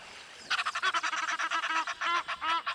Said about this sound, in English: That was the Egyptian geese.